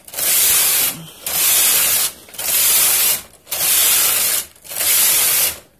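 Knitting machine carriage of a J.F. 260 pushed back and forth across the needle bed, five loud, even rasping sweeps about a second long, each separated by a brief pause, with no talking.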